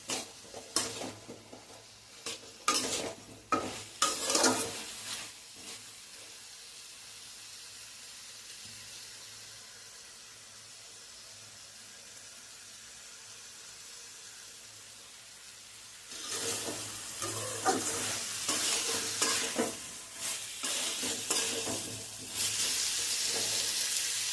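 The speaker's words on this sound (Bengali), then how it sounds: "ভালো করে মশলাটাকে নাড়াচাড়া করে কষিয়ে নেবে" A spice paste fries in a pan, with bursts of stirring and scraping at the start, a quieter low sizzle in the middle, then louder, steady sizzling near the end.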